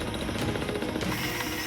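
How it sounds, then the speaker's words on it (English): Water bore drilling rig grinding down through rock at around 80 metres deep on an Australian station, a steady loud mechanical rattle and hammering with no break. "The drill is down to 80 metres."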